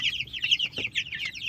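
Young broiler chicks about three weeks old peep in a busy cluster of high, close chirps with a brief low cluck in the middle.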